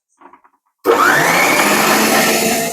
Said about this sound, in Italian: Tutti gli ingredienti in planetaria: strutto, farina e zucchero, uovo, marmellata. Chiudo, comincio ad impastare